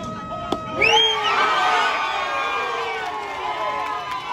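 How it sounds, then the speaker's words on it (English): Baseball crowd in Miami erupting into loud cheering and shouts after a strikeout with the bases loaded, a sudden swell of voices and whoops that stays dense and loud, close around. "Look how crazy this crowd gets."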